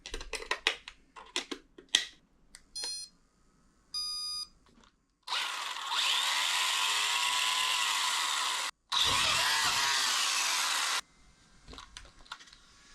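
Battery-powered remote-control screwdriver running on two AA cells: scattered clicks and taps, then two long, loud, steady whirring bursts separated by a brief gap, followed by more light clicking.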